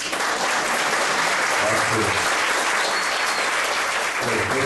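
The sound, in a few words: audience applause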